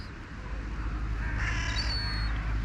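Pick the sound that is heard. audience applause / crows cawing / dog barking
crows cawing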